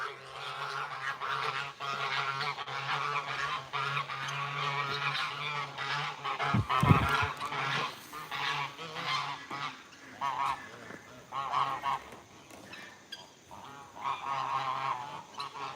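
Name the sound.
geese honking while being fed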